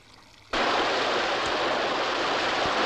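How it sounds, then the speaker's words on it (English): Water from a stream running through an underground desert irrigation tunnel rushes loudly and steadily, bursting in abruptly after a quiet start and holding as a dense, continuous flowing roar. "Droplets of water condensed on the roof, enough to make a stream and bring fertility to the parched land."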